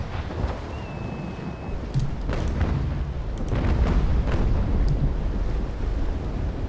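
Naval Action gameplay: a ship's cannons fire a broadside as a series of dull booms over steady wind and sea noise, with no talk.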